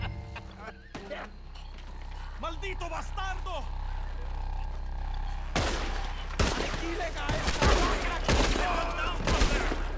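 Gunfire in Red Dead Redemption II, the player shooting at ropes: loud, sharp shot bursts arrive in clusters during the second half, after a quieter stretch of game sounds and speech.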